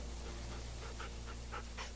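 A dog in The Walking Dead Season 2 video game pants and gives soft whimpering breaths close by, steady and fairly quiet over a low background hum, with no talking.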